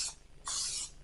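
Water sprayed from a bottle into six wells of a baking pan: a short faint hiss, then a longer steady spray burst about half a second long, close and alone.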